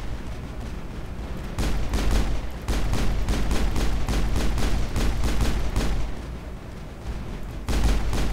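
Bursts of automatic gunfire crack through a Mass Effect firefight, several rapid volleys of rhythmic shots broken by short pauses, loud and close with deep booms underneath.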